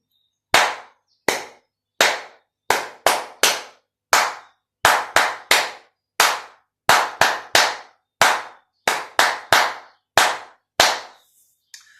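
Sharp hand claps repeat in a syncopated four-bar rhythm, about eighteen crisp claps with uneven spacing forming a repeating rhythmic phrase, heard alone in a quiet room.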